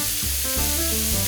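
Steak pieces frying in olive oil in a pan for beef stroganoff, a loud, steady sizzle and hiss filling the whole moment, with music faintly underneath.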